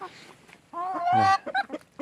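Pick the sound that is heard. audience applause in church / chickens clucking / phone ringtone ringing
chickens clucking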